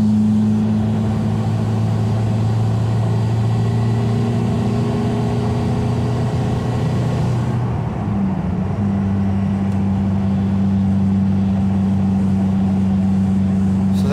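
Toyota with a swapped 1.9L TDI diesel and GTC2262 turbo, a loud steady drone with a sustained engine hum, shifting pitch slightly about midway as it keeps pulling under load, with no talking.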